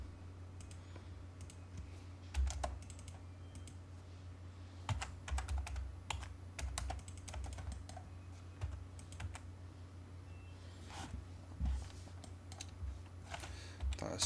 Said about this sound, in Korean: 다시 EX를 입력하고 엔터, 다시 엔터.